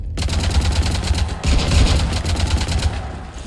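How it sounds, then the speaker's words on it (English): Loud, rapid bursts of gunfire from the Mass Effect video game rake a ship in dense, rhythmic volleys with a brief break before the shooting resumes. "You want to stop shooting up my ship?"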